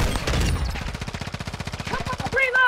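In a video game, a rapid burst of automatic gunfire rattles as an evenly spaced string of sharp shots, preceded by a louder blast and followed by short voices and game sounds.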